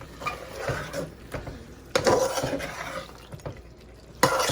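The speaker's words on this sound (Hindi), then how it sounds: "अब जो हमारे पास बाकी दही बचा हुआ था वो भी हम डाल देंगे और दोबारा से भूनेंगे।" Mutton korma with yogurt being stirred and fried in a pan, with soft scraping strokes and a faint sizzle, a few sharper clanks of the spoon against the pot, quiet and close.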